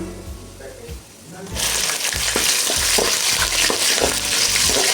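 Green chillies sauté in a hot pan for lemon rice, a steady frying sizzle that jumps louder after a second and carries on with repeated scraping stir strokes, with some talk underneath.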